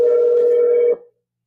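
A single steady telephone tone, like a dial tone, sounds loud and close for about a second, then cuts off into silence.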